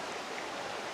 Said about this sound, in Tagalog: Nasa harap mismo niya yung ilog.